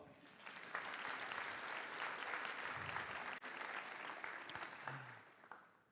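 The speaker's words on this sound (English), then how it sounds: "Give these students a round of applause" An audience at a high school senior recognition ceremony applauds graduating students, broad sustained clapping filling the hall for several seconds, with brief voices surfacing near the end.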